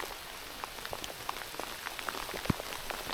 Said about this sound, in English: Rain has moved in as expected.